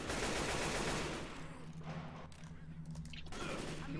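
Rapid bursts of gunfire in the zombie shooter Left 4 Dead 2, played in a custom Resident Evil campaign, crackling loud and continuous through the first second, then thinning into scattered shots with background game ambience.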